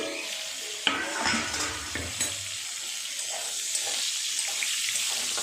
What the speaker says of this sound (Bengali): পটলগুলো কীরকম ভাজা হলো দেখে নিই।